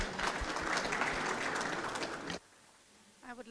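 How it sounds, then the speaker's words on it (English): An audience at a policy dialogue gives the panelists a round of applause, dense clapping that stops abruptly, followed by quiet and the start of a voice. "A big round of applause for them."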